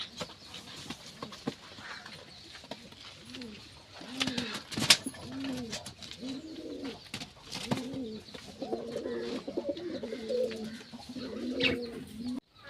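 Pigeons coo in low, throaty repeated calls, several birds overlapping at close range amid light rustling and flutter.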